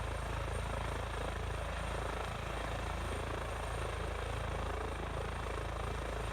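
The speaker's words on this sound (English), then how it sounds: "Just turn the helicopter around slightly." EC145 air ambulance helicopter in Microsoft Flight Simulator, a steady, close turbine whine and rotor drone held at constant level with no breaks or talk.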